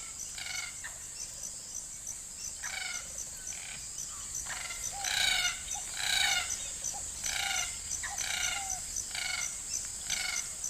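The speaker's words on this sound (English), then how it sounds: "These rare Gouldian finches have found a finch-sized hole not far from a spring on the forest floor." Rare Gouldian finches near a spring on the forest floor in Kakadu give short, bright repeated calls in clusters, fairly close, over a constant high insect whine.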